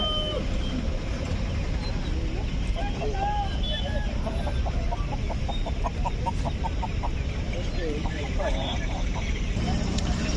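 Chickens cluck in a busy outdoor poultry market in Gudur, with a run of rapid rhythmic clucks in the middle and scattered calls throughout, nearby and under constant crowd chatter and people talking.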